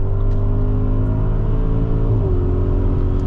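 A 2023 Audi SQ8 Prestige with the 4.0T engine accelerating, heard from inside the cabin as a steady, strong engine drone with a rising whir and a shift partway through.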